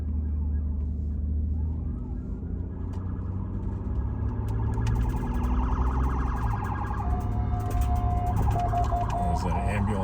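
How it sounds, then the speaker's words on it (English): An ambulance siren comes up from behind a vehicle on a New Mexico road, its wail rising gradually and growing louder over steady road and engine rumble. "is that an ambulance coming?"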